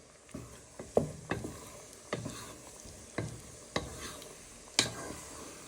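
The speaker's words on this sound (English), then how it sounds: "Give that one final stir before you put the lid on." A spoon stirs Nigerian meat pie filling in a pot, scraping and knocking against the sides in a steady series of clicks over a soft background sizzle, with no one talking.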